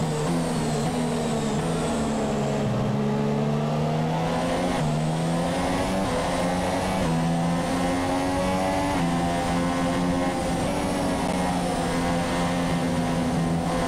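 Formula 1 race car engines in the game F1 2017 at the Sepang circuit in Malaysia scream loudly and continuously, with a sustained high-revving whine that climbs and dips through gear changes and no speech.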